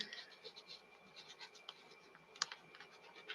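A pen scratches out a note on paper, faint soft strokes in a quiet room with one sharper tap near the end.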